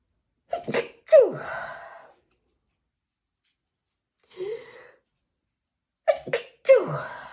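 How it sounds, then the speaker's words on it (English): Several sharp sneezes in quick pairs, close and loud, with a short breathy sound in the quiet gap between them. "I'm gonna sneeze."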